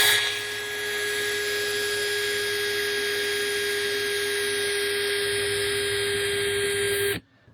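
A Makita 18V cordless drill on a nearly drained battery whines at speed 2 in drilling mode, a steady high motor tone whose pitch gradually sags before the motor stops abruptly near the end.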